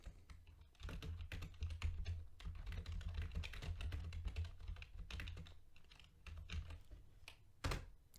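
Someone types on a computer keyboard to edit an Excel cell, producing quiet, steady clusters of close keystrokes that pause briefly near the end before a final burst.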